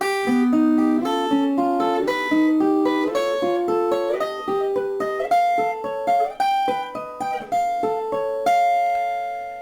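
Clean guitar plays a slow, Django-style whole-tone run of single notes, rising step by step and ending on a sustained, ringing note.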